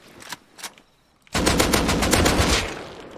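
Gunfire in the video game Rust: a few faint scattered shots, then a loud sustained automatic burst of rapid cracks lasting over a second before trailing off, with no talk over it.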